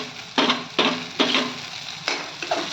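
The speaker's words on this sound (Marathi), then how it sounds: "आणि ढबू मिरचीला सुद्धा परतून घेऊयात." Capsicum sautéing in a pan with onion for pav bhaji masala, four or five sharp stirring scrapes with crackle and sizzle, close and fairly loud, no speech.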